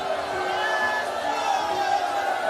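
A congregation cries out loudly together in prayer inside a church hall, a dense, continuous wash of many voices wailing and calling at once, sustained without a break.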